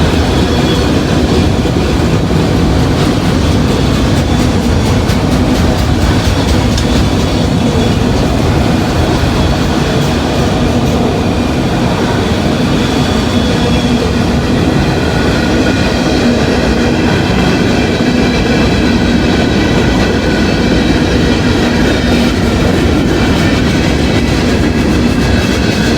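A long Norfolk Southern freight train rolls past steadily on a rainy day in Lockland, with continuous clickety-clack of wheels and rumbling cars, near and loud with no talk.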